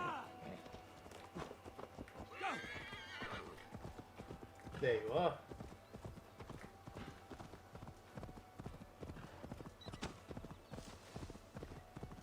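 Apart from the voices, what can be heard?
horse galloping and neighing in video game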